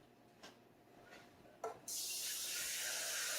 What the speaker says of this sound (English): Now, I like to fill my skillet up with water when I finish gravy.